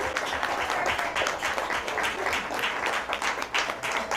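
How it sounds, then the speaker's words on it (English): People at a school district board of trustees work session applaud their administrative manager, a lively, close round of clapping with distinct individual hand claps running steadily for several seconds. "Come on, let's give her a round of applause."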